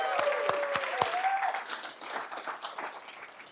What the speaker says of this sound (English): So round of applause to all of you.